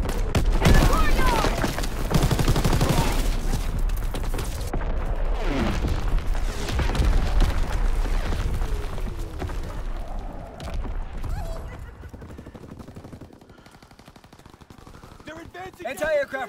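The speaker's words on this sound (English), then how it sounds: "Firing battery one." An artillery battery fires in a Call of Duty WWII battle scene, with heavy booms and rapid gunfire crowding the opening seconds under voices and radio chatter, then thinning toward the end.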